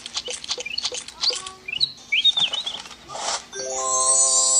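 Chirping bird sound effects from the Toca Boca Pet Doctor game, a run of quick close tweets and whistled calls, followed by a bright chime-like tone at the end.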